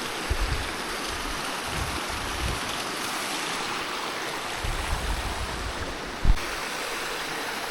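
Steady rushing of flowing water, broad and continuous, with a faint thump near the end and no voices.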